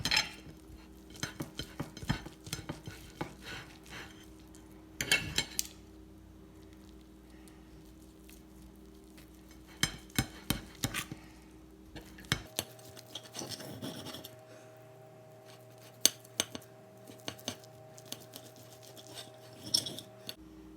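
A knife saws through a sausage, pepper and cream cheese stuffed pork loin cooked on a Big Green Egg grill, giving repeated rasping strokes and scrapes on a board in short bursts, close and fairly quiet with a low steady hum behind.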